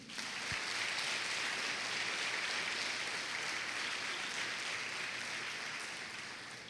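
Church congregation applauding steadily, a dense continuous wash of clapping that holds at even strength and fades slightly at the end, with no speech over it.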